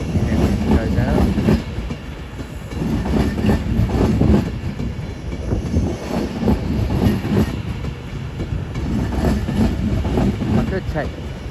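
A train passes through Crewe station on the West Coast Main Line with a continuous loud rumble and rhythmic wheel clatter on the rails, while someone talks over it.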